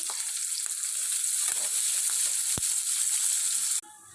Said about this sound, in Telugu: ఆయిల్ వీటెక్కాక కొంచెం జీలకర్ర, ఇదిగోండి ఉల్లిపాయ, పచ్చిమిరపకాయ, కొంచెం కరివేపాకు